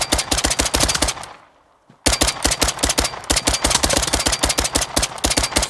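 Loud, steady automatic gunfire in a PC shooter, rapid evenly spaced shots rattling close up, cut by a short silent pause before the stream of fire resumes and runs on without letup.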